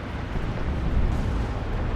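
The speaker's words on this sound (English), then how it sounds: "I guess it's just a battle cannon or something." Heavy battle cannon fire from a Dawn of War 2 multiplayer battle: a continuous loud, rumbling wall of explosive booms with no clear gaps, dense low-end roar sustained for about two seconds and no voices.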